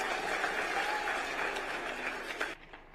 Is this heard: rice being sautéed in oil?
no